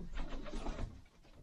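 Pigeons coo softly in a few short, low murmuring phrases, faint and close, with no other sounds around them.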